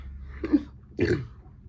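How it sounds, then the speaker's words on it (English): A man gives two short, low burps in quick succession, close and fairly quiet against a faint background hum. "I just burped"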